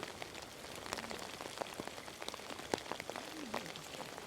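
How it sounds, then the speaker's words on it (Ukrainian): Steady rain pattering on a lake shore during a carp fishing championship at Lac de Pannecière in France, dense drops hitting surfaces and gear continuously at close range, fairly quiet, with no voices. "дощ не вчухає"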